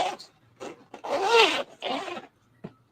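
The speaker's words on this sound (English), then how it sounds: "You can hear my zipper and everything." A clothing zipper rubs and scrapes against a clothing-mounted microphone in a series of close, scratchy bursts of uneven length separated by short pauses.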